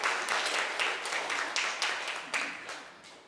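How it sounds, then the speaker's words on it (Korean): A church congregation applauds the mothers during a Sunday Mother's Day service, a dense wash of many hands clapping steadily for a few seconds with small surges, fairly close and without talk. "어머니들 위해서 다시 한번 박수하겠습니다."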